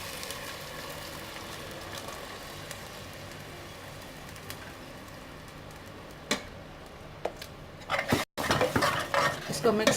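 A yogurt and gram flour mixture stirred in a cooking pot for karhi, a faint steady scraping under a low background hiss, turning into louder clattering spoon-on-pot strokes toward the end.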